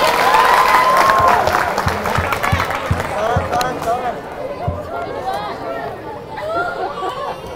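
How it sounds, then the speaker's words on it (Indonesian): An audience at a weekly religious study gathering claps and chatters, a burst of applause that fades into crowd murmur while voices talk over it. "Tepuk tangan dulu."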